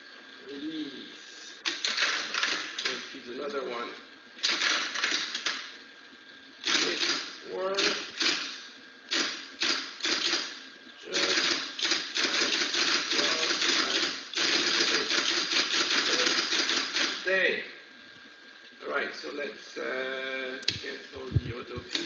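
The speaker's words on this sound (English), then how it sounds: "This keyboard is for punching only, okay? For input, you need to use punch card mode." A keypunch machine punches holes into punch cards, giving bursts of rapid, rattling mechanical clatter that start and stop repeatedly, fairly close and steady in level.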